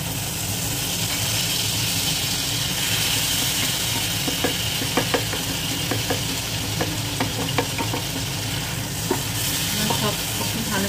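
Chicken sizzles steadily as it fries in a pan seasoned with black pepper and lemon juice, with scattered spoon clicks and scrapes from stirring heard over a constant hiss.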